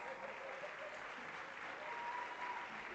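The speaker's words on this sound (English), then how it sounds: "Another round of applause" Sustained applause from a conference audience at the Elevate Africa Convening, an even, continuous patter of many hands heard at a distance with no break.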